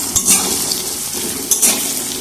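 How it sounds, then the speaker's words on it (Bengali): Chopped onions fry in a pan for a meat curry with new potatoes, with bay leaf, dried chillies and whole cumin already tempered in the oil. A steady close sizzle runs throughout, with two louder bursts of stirring. "মাংস হবে সেজন্য পেঁয়াজ ভাজছি"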